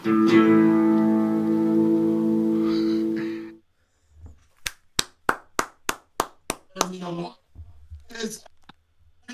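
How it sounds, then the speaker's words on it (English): Hands clapping in a slow, sparse courtesy clap of about eight sharp claps during a Zoom call, following a sustained guitar-like tone at the start and mixed with brief talking between and after the claps. "Even if that's a courtesy clap"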